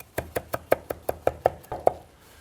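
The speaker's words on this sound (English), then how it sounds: "Nice little rough chop of Italian parsley." A knife rough-chopping Italian parsley on a cutting board, a steady run of about eleven crisp, close taps at an even pace, ending with a brief pause.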